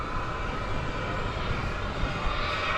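Boeing 787-9 Dreamliner taxiing across DFW Airport toward its departure runway, a steady broad jet-engine roar with a continuous rushing hiss, moderately distant and unbroken throughout.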